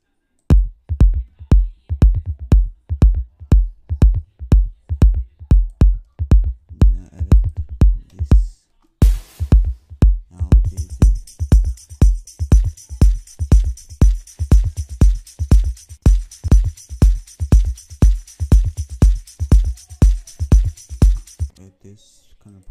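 Afro house intro percussion programmed in FL Studio: a steady, punchy low kick-like pulse repeating evenly throughout, joined midway by a brief break and then a bright, sustained hissing layer riding over the beat.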